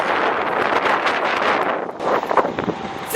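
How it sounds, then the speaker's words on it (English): Strong gusts of wind buffet the microphone outdoors in Victoria, a loud, roaring rumble that swells and dips continuously with no talking. "Did I mention how windy it is?"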